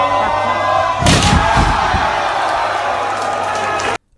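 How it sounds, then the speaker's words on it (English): A wrestling crowd erupts as a wrestler is powerbombed through a table, with a heavy thud of the impact followed by a loud roar and cheering that stays high until cutting off abruptly. "Then we have the bump and the pop from the crowd."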